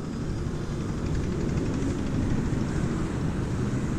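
A small RC flying-wing model airplane drones overhead outdoors, its propeller motor giving off a steady buzzing whir with a broad rumble of wind.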